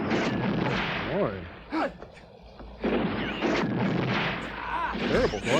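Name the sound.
movie gunfire shooting flares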